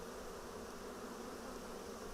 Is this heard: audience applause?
no